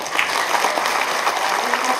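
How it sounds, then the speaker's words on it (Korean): Steady applause from the audience at the inauguration ceremony of a provincial education superintendent, a broad even patter of many hands clapping without a break. "다 같이 또 박수로 서로 인사 나눌까요?"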